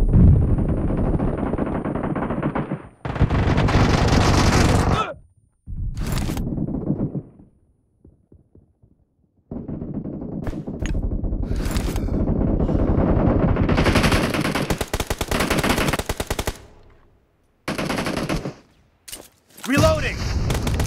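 Gunfire in PUBG played on a Realme C31 phone: repeated automatic bursts and single shots in several loud stretches across the clip, broken by short pauses.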